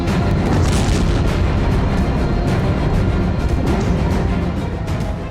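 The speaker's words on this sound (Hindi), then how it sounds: "यमन के कई शहरों में एक साथ विस्फोट होने लगे और आग की लपटें उठने लगी।" Loud, sustained rumbling blasts from air strikes on cities in Yemen, a dense continuous roar of booming explosions with no clear gaps, heard close and without voices.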